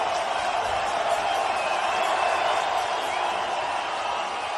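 Large stadium crowd at a New Mexico State vs New Mexico college football game, a steady, dense roar of cheering and noise filling the stands with no breaks, loud and continuous.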